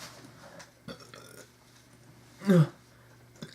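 Someone burps after drinking pale ale, a single loud, throaty belch near the middle, with quieter room noise and small knocks around it.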